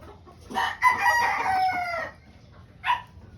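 A three-year-old tornado hatch gamecock rooster crows one long, loud cock-a-doodle-doo close by, followed a moment later by a short single call.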